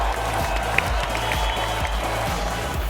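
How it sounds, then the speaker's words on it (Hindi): Dense, steady clapping from a crowd runs unbroken for a few seconds at moderate loudness, with a low rhythmic thump underneath. "अपने लिए खुद ही तालियां"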